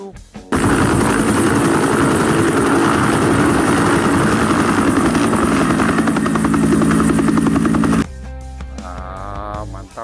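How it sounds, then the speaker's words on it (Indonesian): A toy helicopter roars steadily for several seconds with thumping rotor noise, then cuts off abruptly, leaving quieter background sounds. "Wah, bener teman, ya adalah helikopter."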